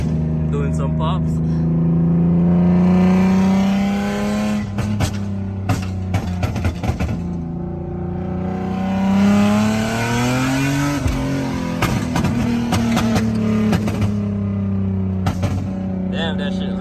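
An Infiniti G37 sedan's engine revs up and falls back repeatedly, rising and dropping in pitch, with crackling exhaust pops between revs, loud and close, while people talk nearby.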